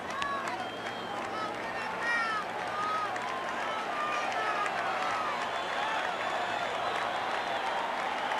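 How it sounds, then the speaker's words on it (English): Shea Stadium baseball crowd buzzing and cheering with two strikes on the batter, a broad, steady roar with scattered claps and whistles beneath an announcer's voice. "Shea Crowd, as is customary with 2 strikes, and particularly customary with Dwight Gooden, looking for the strikeout."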